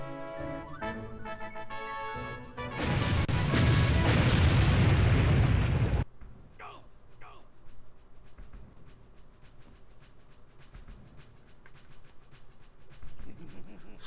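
A grenade goes off in the video game Army Men: Sarge's Heroes, a loud, roaring blast lasting a few seconds that cuts off abruptly and leaves quieter game sounds behind it.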